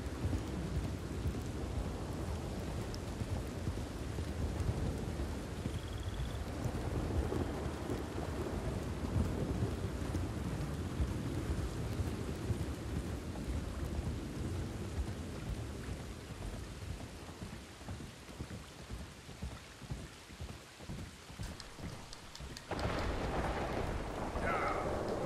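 Steady downpour with deep rolling thunder in the open-world western game Red Dead Redemption II. The rain hiss stays constant and the rumble swells in the middle, with a sudden brighter burst near the end.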